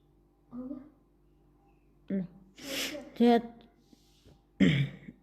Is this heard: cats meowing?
no